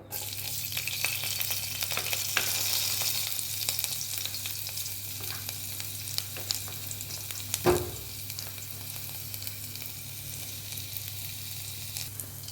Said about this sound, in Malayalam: ഒരു പാത്രം അടുപ്പത്ത് വെച്ച് അതിൽ കടുക് പൊട്ടിയതിന് ശേഷം ഉഴുന്നുപരിപ്പും കൂടി ഇട്ട് മൂപ്പിച്ചിട്ടുണ്ട് ഇനി നമുക്ക് ഇതിലേക്ക് ഇഞ്ചി ചേർത്ത് കൊടുക്കാം